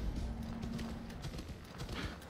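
Rhythmic clip-clop of horse hooves at a steady gait in the video game Assassin's Creed Valhalla, continuous and fairly close, over a dense background hum.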